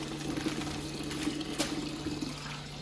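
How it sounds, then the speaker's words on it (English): Tap water runs steadily into a sink while food is rinsed under it. The soft, even hiss carries on throughout, with a faint low hum underneath and a brief splash partway through. "So I'm going to rinse this off one more time. In fact, wash it off one more time."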